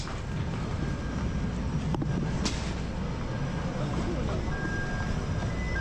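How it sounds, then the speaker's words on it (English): Steady low rumble of a Chicago subway train running through a tunnel, with a brief screech, continuous and fairly loud throughout. "Gonna miss the subway."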